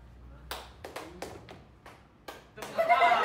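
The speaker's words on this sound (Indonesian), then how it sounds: "kalian tepuk dulu 2 kali" A group of people in a classroom clapping on cue, a run of sharp separate claps spaced irregularly, followed by a burst of louder overlapping clapping at the end with faint voices under it.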